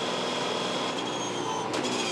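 A 2015 V8 Supercar at the Darwin Triple Crown race bangs against its rev limiter, a loud, steady high-pitched engine drone, with a brief change in tone near the end.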